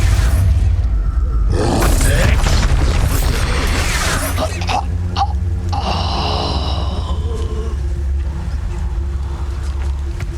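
Expulso explosion spells cast repeatedly in Hogwarts Legacy combat, loud booming blasts and crackling bursts over a constant roaring game soundscape, with debris-like clatter and ringing tones afterward.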